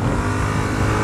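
Adventure motorcycle engine pulling in fourth gear at around 50 km/h through a village, a steady, loud mid-pitched drone with constant wind noise and no talking.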